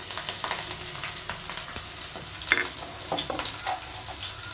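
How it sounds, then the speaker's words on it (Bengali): Finely chopped onion fries with cardamom in a pan, giving a close, continuous crackling sizzle broken by light stirring scrapes. "এবার পেঁয়াজটাকে আমি একটু ব্রাউন করে ভেজে নেব।"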